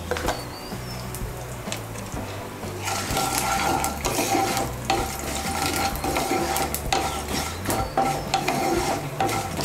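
Curry leaves and turmeric powder are stirred and fried in a pan while lemon rice is being made. A soft sizzle turns into louder, continuous scraping and crackling from about three seconds onward.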